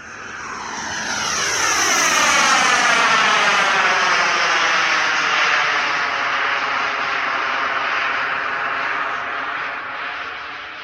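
A turbine-powered model T-38 jet screams past at full power while climbing, its whine rising then sweeping down in pitch as it passes overhead, loud and continuous with no talk.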